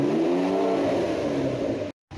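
Ford Taurus SHO with stock mufflers roaring at wide-open throttle, a loud, steady, rising exhaust drone close by that cuts off abruptly, then a short silence before it resumes.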